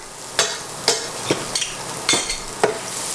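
Garlic frying in a pan for shrimp tacos is stirred in several sharp scraping strokes, spaced roughly half a second apart, over a soft, steady sizzle, close by and with no voices.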